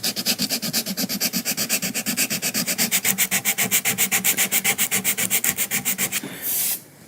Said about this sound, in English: I'm going to start sanding very lightly with some 320.